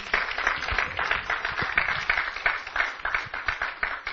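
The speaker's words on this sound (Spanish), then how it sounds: "Dele un fuerte aplauso al Señor." A church congregation claps together in steady, dense applause, a continuous patter of many hands with rhythmic pulses, fairly loud and with no talk over it.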